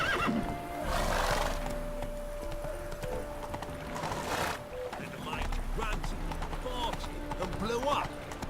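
A horse gallops in The Witcher 3 with rhythmic hoofbeats, a neigh and steady rumbling movement, while a voice speaks over the action.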